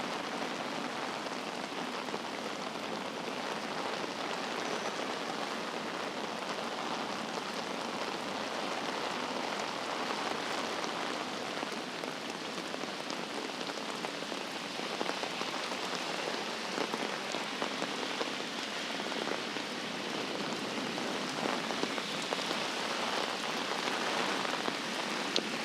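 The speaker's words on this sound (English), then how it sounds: "But for the purposes of just watching the rain, it works." Heavy rain pours steadily on a street in Geylang, Singapore, a dense, even hiss of drops drumming on surfaces that stays constant and close throughout, with no voices.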